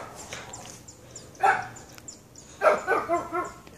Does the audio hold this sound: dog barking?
yes